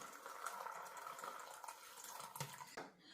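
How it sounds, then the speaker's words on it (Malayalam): Boiling hot water pours onto beans in a kitchen, a faint continuous splashing and filling sound that stops near the end. "ഈ പയറിലേക്ക് നല്ല തിളച്ച ചൂടുവെള്ളം ഒഴിക്കും."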